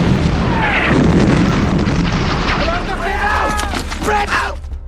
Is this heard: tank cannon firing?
yes